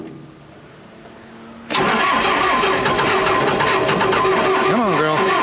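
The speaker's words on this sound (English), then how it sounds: "So let's fire up this diesel compressor" A diesel-engined air compressor cranks and catches at once, jumping from near-silence to a loud, steady close-up running roar that holds to the end, with a brief rising and falling whine near the close.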